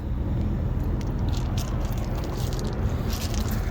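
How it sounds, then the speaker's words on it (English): Loud vehicle traffic rumbles steadily behind a parked 2011 Damon Challenger 371KT motorhome, a broad continuous roar with passing swells and no break. "A lot of loud vehicles behind me"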